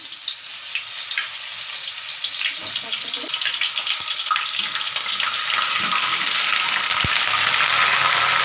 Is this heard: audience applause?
no